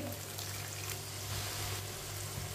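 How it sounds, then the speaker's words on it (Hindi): Water poured into cooking spices in a pan for an aloo matar dish gives a short, soft splashing pour over a low background hum. "थोड़ा सा पानी डाल लेंगे"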